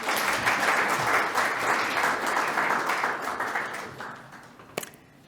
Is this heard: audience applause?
yes